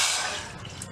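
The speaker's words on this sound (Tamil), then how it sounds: "அரிசி மாவு எடுத்த கப்லயே 1 கப் தண்ணி" Water poured from a 250 g measuring cup, one cup's worth, for a Tamil potato and rice-flour snack batter, a brief bright splashing fill with no talk.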